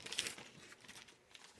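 A plastic bag holding a comic book crinkles softly up close in a few quick, crisp rustles, loudest at the start and then fading to light scattered crackles.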